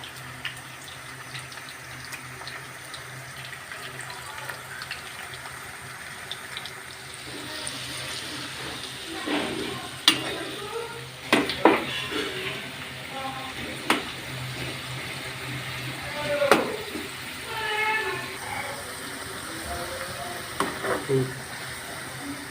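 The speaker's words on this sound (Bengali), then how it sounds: "তেলের মধ্যে আলুগুলো সিদ্ধ করে নিতে হবে ভালো করে, না হলে এগুলা কাঁচা থেকে যাবে।" Potatoes frying in hot oil for mutton kosha, a steady close hiss and sizzle with occasional sharper pops and clinks as the pieces are turned, under a speaking voice.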